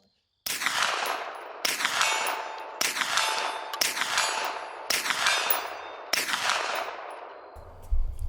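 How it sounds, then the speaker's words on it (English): Six sharp gunshots from a firearm fitted with an Olight Odin Mini weapon light, fired downrange at roughly one-second intervals, each loud crack trailing into a ringing echo. "Let's get some rounds downrange."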